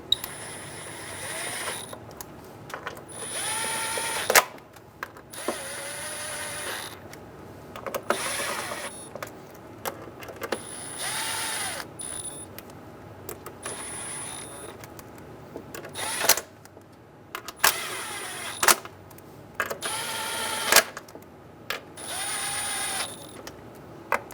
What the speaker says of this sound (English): Snug down all the bolts until they touch the cover, but don't make them tight.